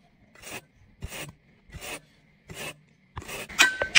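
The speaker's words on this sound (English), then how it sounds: "Seems like it needs a bit of sharpening." A cleaver is drawn across a ceramic sharpener in slow, separate rasping strokes, about five close scrapes at even intervals with near silence between, the last one ending in a brief metallic ring.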